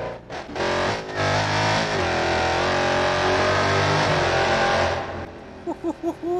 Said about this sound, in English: should we rev bomb this tunnel?